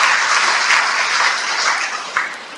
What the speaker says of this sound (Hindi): तालियां बजाएं सबके लिए।